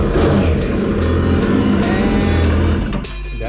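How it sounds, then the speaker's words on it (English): A 2020 Yamaha EX WaveRunner engine revs up while being flushed with a hose, giving a loud, close, continuous roar with rhythmic pulses, then easing off slightly near the end. "Then we take out the hose, and we just need to accelerate a little bit."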